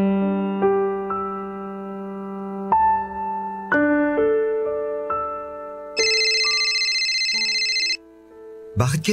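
A phone ringtone for an incoming call at night plays as a bright repeating melody of tonal beeps, loud and close, with a radio drama backdrop.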